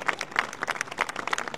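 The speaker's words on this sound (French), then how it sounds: "Et ce baltringue se fait applaudir" At a farewell party for a departing minister, held in a ministry courtyard with about 1500 guests, a crowd claps in a brief, busy burst of overlapping hand claps.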